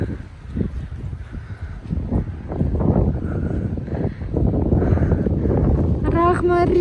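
Strong, cold autumn wind gusts steadily against the microphone during an outdoor walk, a continuous rumbling buffet that grows louder midway, with a brief voice-like tone near the end.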